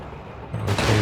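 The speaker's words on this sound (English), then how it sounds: "They opened fire! Fire back!" A burst of massed gunfire from Company of Heroes 3 swells in after a quieter lead-in, with dense overlapping shots and heavy low rumble filling the final half-second.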